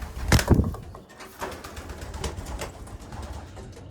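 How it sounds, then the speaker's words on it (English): Racing pigeons of Huskin Van Riel and Jansen lines coo in a loft, a few soft murmuring calls close by with a brief louder flutter near the start. "these racing pigeons, they're Huskin Van Riels and Jensen's"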